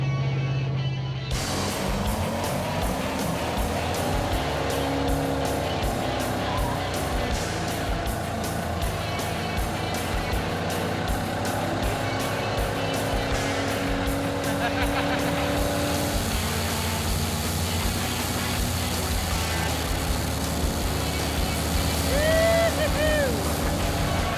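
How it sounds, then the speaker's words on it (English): A Chevrolet Camaro with side pipes roars through a burnout. The loud, dense engine sound runs unbroken the whole time and shifts in pitch, and voices can be heard faintly beneath it. "Or a proper burnout."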